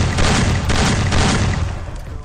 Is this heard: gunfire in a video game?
yes